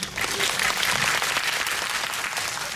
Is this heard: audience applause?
yes